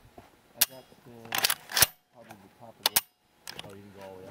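Metallic clicks and clacks of a reassembled Daewoo Max II rifle's action being worked through a functions check, several sharp snaps in quick succession with a voice speaking between them.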